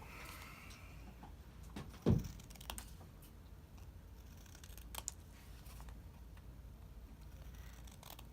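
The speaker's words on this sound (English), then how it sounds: "you're going to take your scissors and you're just going to trim around the edges" Scissors snip around the edges of a paper bookmark in a quiet room, with one sharper cut and scattered faint clicks of paper and blades close by.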